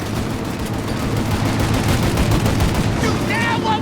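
Dense, continuous gunfire from a shootout in the video game Mafia Definitive Edition, with overlapping rapid shots forming a steady loud barrage; a voice briefly cuts in near the end.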